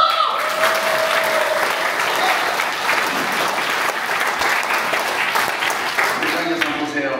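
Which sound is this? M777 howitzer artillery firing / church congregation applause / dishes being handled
church congregation applause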